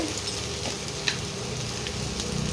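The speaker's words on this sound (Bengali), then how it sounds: "এগুলো সামান্য ভাজা ভাজা হয়ে গেছে, এর থেকে বেশি ভাজার দরকার নেই।" Potatoes fry in a pan with a continuous, close crackling sizzle and a small sharp pop partway through.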